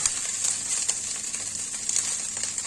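Small tangra and mourala fish fry in hot oil with a bright continuous sizzle, dotted with little pops and spits, close up and without speech.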